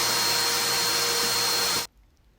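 A vacuum cleaner runs loud and steady during kitchen deep cleaning, a dense broadband whir that cuts off abruptly near the end and leaves faint room quiet.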